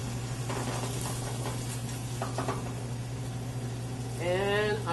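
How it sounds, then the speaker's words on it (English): Steady frying sizzle from a pan of Chilean blue mussels being deglazed with Pinot Grigio wine, a continuous hiss over a low hum, with a brief squeaky scrape near the end. "Deglaze the bottom of the pan,"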